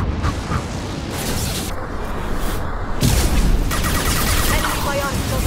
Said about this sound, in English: Flashbangs.